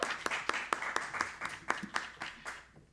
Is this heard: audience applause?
yes